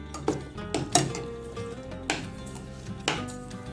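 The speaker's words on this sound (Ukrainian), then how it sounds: "Та перемішую до розчинення желе, але вже проварювати не буду." A spoon stirs hot apples with orange jelly in a pot, giving a few sharp metallic clanks and scrapes against the pot over a steady tonal background hum.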